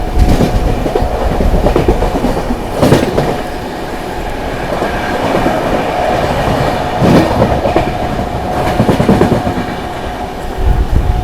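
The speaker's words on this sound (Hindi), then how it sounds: "यहाँ पर हम लोग स्किप कर रहे हैं इटावा जंक्शन एंड ओवरटेक कर रहे हैं मगध एक्सप्रेस को" Humsafar Express rolling at speed through Etawah Junction past the Magadh Express, a steady loud rumble of wheels on track with rhythmic clickety-clack and brief bursts as it passes, heard from aboard with no talking.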